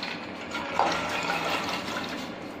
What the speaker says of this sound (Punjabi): ਆਪਾਂ ਆਪਣੀ ਇੱਕ ਗਲਾਸ ਪਾਣੀ ਦਾ ਮਿਲਾ ਲੈਣਾ ਹੈ